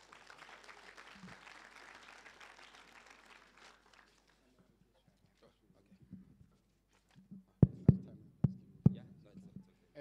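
An audience at a business pitching breakaway session applauds in a dense burst that fades out after a few seconds, followed by quiet and then a handful of sharp, separate claps or knocks close by.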